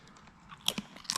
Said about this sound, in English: You gotta chew it all the way.